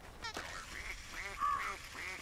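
Duck quacks from a duck in the game We Happy Few, a few short nasal calls in sequence, fairly close and moderately loud over a steady background.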